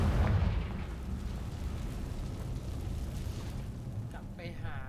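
A Confringo spell explodes in the video game Hogwarts Legacy, a loud deep boom at the start that fades into a lingering rumble, followed by a faint magical shimmer near the end.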